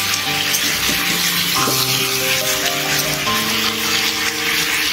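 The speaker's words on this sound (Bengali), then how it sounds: "প্রথমে আলুটাকে ভালো করে পেঁয়াজের সাথে কষে নেব।" Potatoes frying with onions in a pan, a loud continuous sizzle and hiss filling the whole stretch, with clinks and scraping of stirring underneath.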